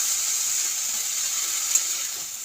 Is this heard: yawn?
no